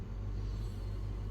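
A car engine idles steadily at a campsite, a low continuous rumble close by and alone with no voices.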